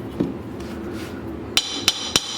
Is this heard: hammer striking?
yes